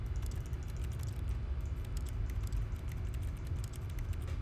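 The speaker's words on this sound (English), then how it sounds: "It's a keyboard." Rapid, steady keyboard clicks from The Stanley Parable, heard up close and alone as a dense patter of keystrokes.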